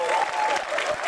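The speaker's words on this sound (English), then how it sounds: "Give them a round of applause." A short, loud burst of audience applause for a quiz team, dense clapping from a crowd lasting about a second.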